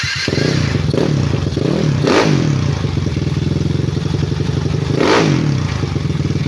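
A TRF flat head 218cc motorcycle engine revs hard on a test drive, a close, loud, steady throbbing broken by two sharp throttle blips with some mechanical clatter.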